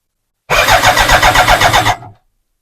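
A BMW K100 motorcycle engine cranks over for about a second and a half with a steady, fast pulsing churn of the starter, loud and close, then it stops abruptly without catching.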